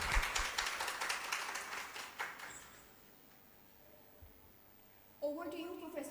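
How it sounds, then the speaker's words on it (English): Audience applause for a speaker at a scientific event: a burst of clapping that fades after about two seconds into quiet, followed by a voice speaking. "Let's give a big round of applause for Professor Dr."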